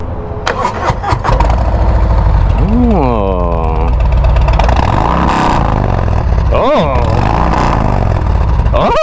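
An Audi A4's engine rumbles loudly and steadily through new, slightly larger exhaust pipes, with a couple of rising revs cutting through the constant low drone.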